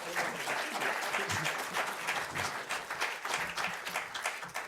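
Warm, sustained applause from a conference audience, a dense steady patter of many hands clapping throughout at an even, fairly close level.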